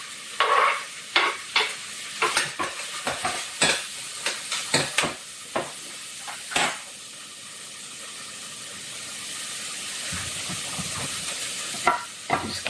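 A yellow onion, butter and garlic fry in a pan on a stovetop, a soft steady sizzle broken by repeated sharp scrapes and clacks of a utensil stirring, close and without talk.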